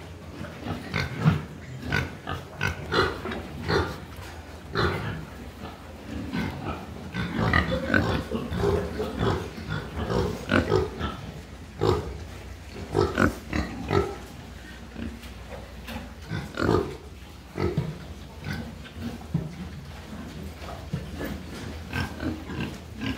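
Pigs on a farm feeding together in rows at troughs, with a steady chorus of grunts, oinks and snorts close by, dense and continuous throughout with no talk.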